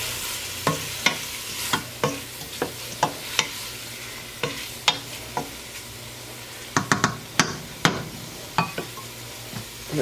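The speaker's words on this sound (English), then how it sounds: "So now we're going to add our meat and stir that in" Meat is stirred into spices in a pan, with a string of sharp spoon-on-pan knocks and scrapes over a soft sizzle, clustering into quick bursts toward the end, with no talking.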